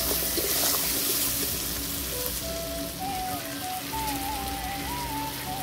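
Crabs fry in a pan with onion and chilli, a steady loud sizzle and crackle of hot oil running throughout, with a faint tonal whine in the background.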